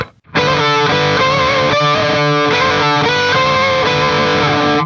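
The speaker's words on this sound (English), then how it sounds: "A little more distortion." A heavily distorted electric guitar rings out in a sustained, buzzing chord, loud and thick, with notes shifting slightly over the drone.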